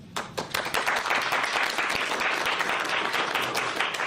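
Audience applause at a Trump IVF executive order signing, sustained dense clapping from a roomful of people that holds steady for several seconds.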